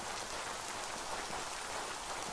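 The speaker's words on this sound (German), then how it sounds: "Und es regnet natürlich, ist eh klar." Steady rain falls in the video game Yonder: The Cloud Catcher Chronicles, a soft, even hiss of drops on surfaces that continues unbroken, with no voices over it.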